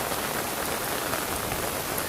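Heavy rain pours steadily across a flooded rural road near rice fields, a dense continuous hiss of drops hitting water and ground, close and loud with no voices.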